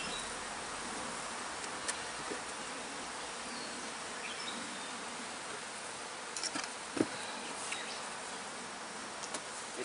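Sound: honey bees buzzing around an open hive

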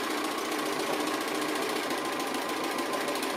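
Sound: sewing machine stitching appliqué

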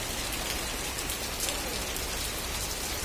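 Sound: heavy rain falling outside hospital at night

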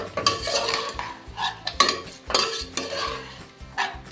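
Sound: chicken being stir-fried in oil

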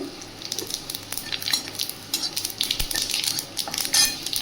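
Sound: dried chili, bay leaf and cumin sizzling in oil

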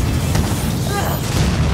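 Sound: explosion in video game Mirror's Edge Catalyst

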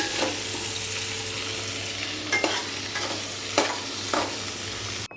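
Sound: pointed gourd frying in oil

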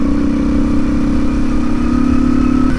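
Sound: BMW motorcycle engine at speed

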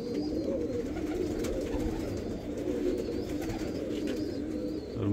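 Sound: Teddy pigeons cooing

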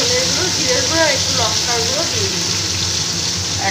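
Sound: frying potatoes with green chilli paste in pan

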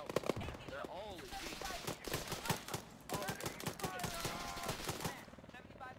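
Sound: gunfire in the video game ArmA 3

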